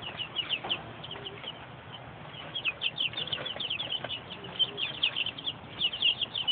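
Six bantam chicks peep in a steady, busy chorus of high chirps, close by, over a soft background rustle with no talk.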